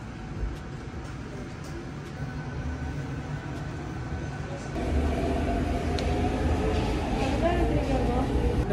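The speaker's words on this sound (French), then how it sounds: "là, je prends le métro 1" Metro line 1 train in motion, a steady loud rumble of wheels and car noise filling the space, growing heavier partway through with faint squeals, heard from inside the carriage.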